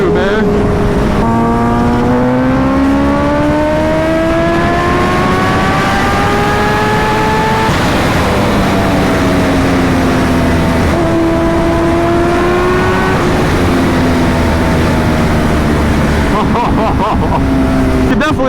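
Kawasaki Ninja H2R supercharged motorcycle engine revs hard with rising pitch sweeps, then stutters as it cuts out before climbing again, loud and continuous throughout.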